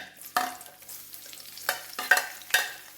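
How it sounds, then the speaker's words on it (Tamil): Cumin seeds and a large onion frying in hot oil for a brinjal masala fry, with a soft sizzle broken by several sharp stirring scrapes and clinks close by. "சீரகம் பொரிஞ்சுற நேரத்தில் ஒரு பெரிய வெங்காயம்"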